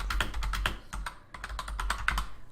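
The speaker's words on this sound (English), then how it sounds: "So I'm going to type in here" Computer keyboard typing, a rapid series of close, distinct key taps in two bursts separated by a short pause, over a low background hum, no speech.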